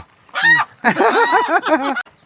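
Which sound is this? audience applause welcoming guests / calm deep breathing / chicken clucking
chicken clucking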